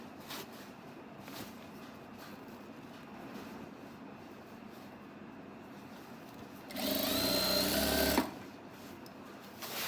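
A sewing machine runs in one brief, steady burst of about a second and a half, stitching elastic onto telekung fabric, close and fairly loud against a quiet room with no speech.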